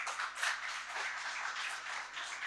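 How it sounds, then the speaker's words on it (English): An audience applauds at a tech talk, a steady wash of many hands clapping at moderate distance with no pauses. "Let's give them a round of applause for that"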